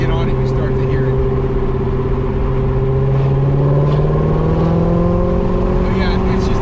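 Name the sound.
Corvette Z06 exhaust revving while accelerating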